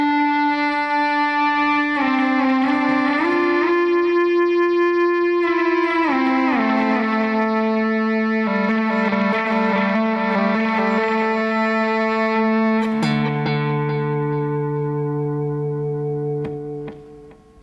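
An electric guitar run through effects plays a part with sustained, shimmering sliding notes ringing on and decaying at the end.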